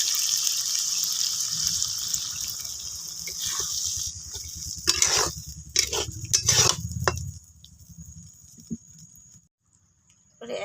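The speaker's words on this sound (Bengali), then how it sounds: "এরপরে দিয়ে দেবো সামান্য একটু জল" Water is poured into a pan of frying cauliflower masala, a hissing splash and sizzle over a steady kitchen background, with a few clinks of utensils against the pan as it settles.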